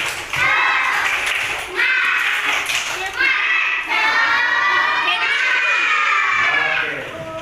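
Class of young schoolchildren chanting and shouting a rhythmic clap cheer in unison, loud and close, with bursts of clapping between the shouted lines.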